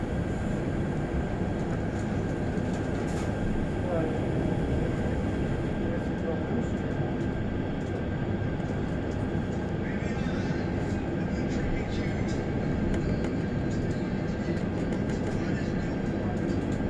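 An Intercity train approaches a station in Tczew, Poland, a steady rolling rumble and rail noise heard from inside the carriage, with scattered squeaks and clatter and faint voices.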